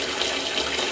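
Hot water pours steadily from a tap into a sink, a loud, close, continuous rushing splash with no voices.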